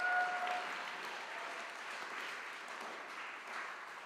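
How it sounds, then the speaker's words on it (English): Steady, dense applause from a school audience for the student council at an academic and fine arts awards ceremony, sustained and even throughout with no talking over it. "So if we could give this group a round of applause,"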